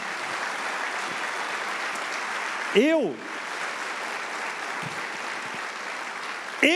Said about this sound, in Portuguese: você devia dar uma salva de palmas a Ele